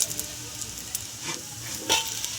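Bhetki fish chops fry two at a time in hot oil, a constant bubbling sizzle with a few louder crackling bursts as they are turned.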